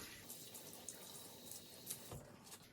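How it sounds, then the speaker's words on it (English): Running water rinses out a bathroom vanity sink, a faint steady splashing and trickling with a couple of brief louder gushes near the end and no talk. "we're just gonna kind of rinse out the sink"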